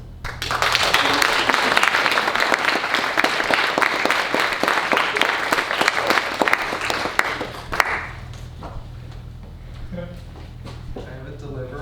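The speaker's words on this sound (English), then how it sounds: "Applause." Lively applause from a small office crowd, with brisk distinct claps for about eight seconds before stopping abruptly, leaving quiet room tone with a low hum.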